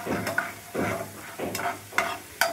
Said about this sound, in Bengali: এটা একটু কষতে থাকুক।